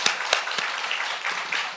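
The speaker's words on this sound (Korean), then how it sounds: "우리 목사님께 박수 한번" A brief burst of clapping from a church group for a pastor, with a few sharp individual claps standing out, fairly close and lively.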